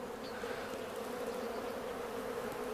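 Honeybees flying in front of a hive in spring, a steady, dense buzzing hum of many wings that holds at an even level throughout, close and continuous with no voices.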